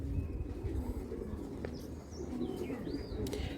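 Cooing from a raced Belgian-line racing pigeon with 21 races behind it, soft and low beneath faint wing flutters and a few distant chirps, with no voices.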